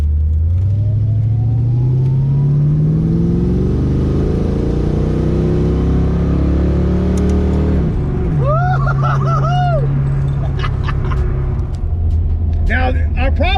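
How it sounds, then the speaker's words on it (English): A car engine with an AOD automatic transmission held in first gear revs up steadily with a rising, rumbling roar, then drops back to idle. Background chatter and some squeaky sounds follow. "Let's see if it'll rev out."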